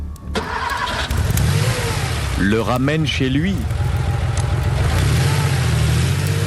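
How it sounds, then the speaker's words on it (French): A car kicks into life with a sharp catch, then revs hard and pulls away in a hurry, the engine note rising and falling, while someone narrates over it. "cette voiture que vous voyez partir en catastrophe"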